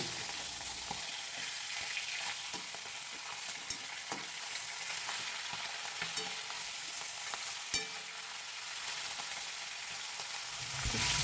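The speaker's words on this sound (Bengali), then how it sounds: "মাছের মাথার টুকরোগুলোকে উল্টো পাল্টে ভালো করে ভেজে নেব" Pieces of fish head fry in hot oil while being turned over, a steady close crackling sizzle with occasional sharper pops and stirring clatter, growing slightly louder at the very end.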